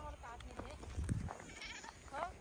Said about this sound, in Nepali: यो पनि ठुलो मम्मीको बाख्रा हो।